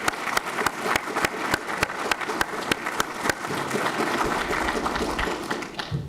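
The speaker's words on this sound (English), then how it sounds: "please give them all a round of applause" A crowd applauds at a university ROTC commissioning ceremony, with sustained, fairly distant clapping from many hands and a few sharper claps standing out along the way.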